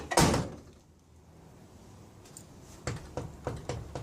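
A car door is swung shut on a project car after being refitted, giving one loud close slam near the start, then a few lighter rattling knocks and clicks toward the end.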